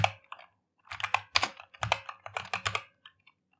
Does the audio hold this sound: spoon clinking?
no